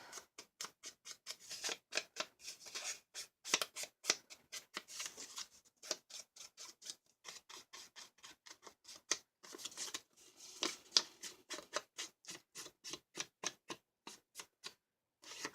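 Scissors trim paper for handmade gift tags, a close, quiet series of crisp snips in uneven bursts with short pauses between runs of cuts.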